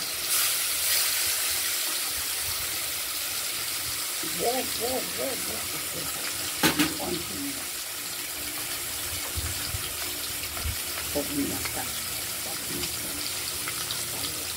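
Catla fish coated in salt and turmeric frying in hot oil in a wok, a continuous sizzling hiss throughout, with a voice briefly speaking over it.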